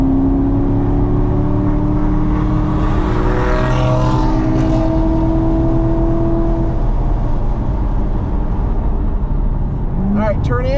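A car accelerates hard on the Burt Brothers Motorpark East race track as the throttle is squeezed, its engine whine rising and falling loudly and up close while someone talks over it throughout.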